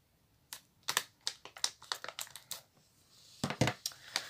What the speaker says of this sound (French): je donne un petit coup de ciseau au milieu